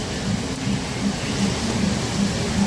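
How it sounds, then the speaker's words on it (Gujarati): A sudden heavy downpour of large raindrops produces a loud, continuous drumming hiss, even and close, with no voices. "મોટા છાંટે વરસાદ આવી ગયો ઘડીકમાં."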